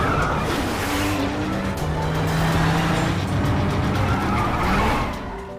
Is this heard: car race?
yes